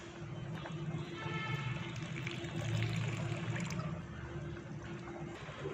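Water poured into half a cup of flour to make a thin slurry for beef nihari, a faint steady trickle of liquid over a low background hum, with no talking.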